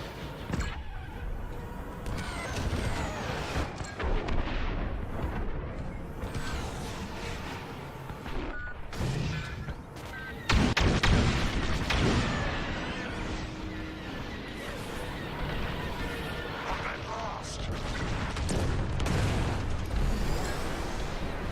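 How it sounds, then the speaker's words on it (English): Loud cluster-bomb blasts during a ranked fleet battle in Star Wars: Squadrons, sharp booming bursts over a constant roar of starfighter engines and mechanical game effects, with one especially heavy hit midway. "I love cluster bombs."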